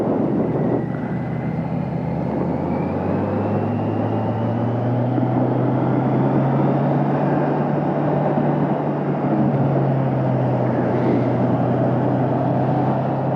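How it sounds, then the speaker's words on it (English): A 2022 Kawasaki Z900 four-cylinder motorcycle engine while riding, a steady low drone with a rising and falling tone, heard close and continuous under strong wind rush and no talking. "I can actually hear the engine note a little better"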